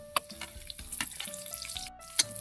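Garlic and onion fry in a pan with a soft, steady sizzle, punctuated by a few light scrapes and clinks of stirring, close but fairly quiet.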